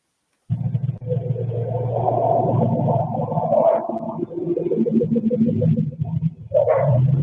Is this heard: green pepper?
no